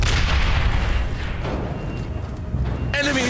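Grenade explosion in the video game Aliens: Dark Descent: a loud, heavy blast rumbling through the opening, fading over about a second into lingering noise, with a short voice heard near the end.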